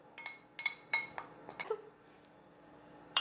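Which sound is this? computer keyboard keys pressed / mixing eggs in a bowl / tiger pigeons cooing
mixing eggs in a bowl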